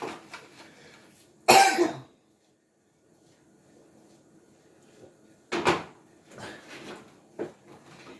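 Two loud, close coughs, one early and one a few seconds later, separated by near silence, followed by a few softer rustling sounds.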